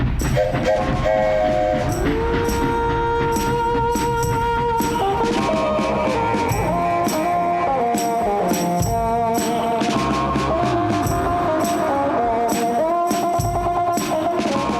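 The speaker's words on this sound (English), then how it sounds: "I'm riding in a double-decker superliner train on the Empire Builder line" The Empire Builder double-decker Superliner train rumbles along loud and continuous, with sustained horn-like tones sounding over the rolling noise throughout and no voices.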